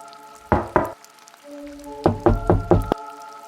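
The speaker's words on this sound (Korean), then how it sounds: "선명한 노크 소리." Knocks on a motel bathroom door in Ulsan: two sharp raps, a pause with a low hum, then a quicker burst of four close, loud knocks.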